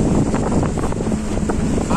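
Boat taxis (lanchas) on the Aguamilpa dam reservoir give a steady motor rumble mixed with heavy wind buffeting, with talk woven through.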